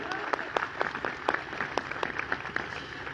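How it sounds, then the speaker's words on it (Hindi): Scattered applause from a small audience at an anniversary program, a steady patter of claps with some sharper individual claps standing out. "जोरदार तालियों से अभिनंदन करें मेरे सभी दोस्तों का, जोरदार तालियां"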